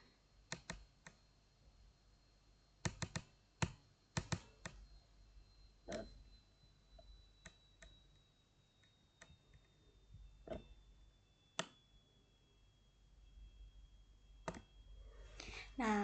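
Sharp keyboard clicks on a computer come in scattered bursts, some quick runs of keys and then single strikes like an enter press, close and crisp against a quiet background, with no one speaking.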